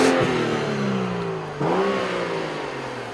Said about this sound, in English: That's a good sounding 6-cylinder.